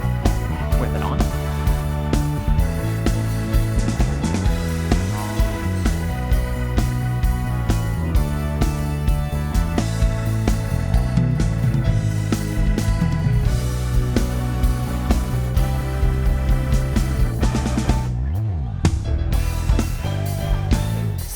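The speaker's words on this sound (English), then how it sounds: "we have taken this bass guitar that sounds like this" Bass guitar in a full band mix, processed through the Ultimo compressor effect on a Behringer X32 mixer. It sounds steady, punchy and even-leveled under drums and other instruments, playing continuously and loud with no talking.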